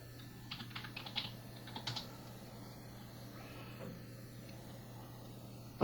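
Computer keyboard keys are tapped in a short, uneven burst of clicks while a search is typed on a computer, then stop, leaving a quiet room with a steady low hum.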